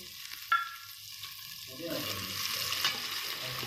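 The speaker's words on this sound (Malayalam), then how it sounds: "ഈ മസാലകളൊന്ന് മൂപ്പിച്ചതിന് ശേഷം ക്യാരറ്റ് ചേർക്കണം." Spices and carrots frying and being stirred in a pan for dum biryani, a continuous sizzle with scraping stir strokes, a sharp clack early on and the hiss swelling louder in the second half.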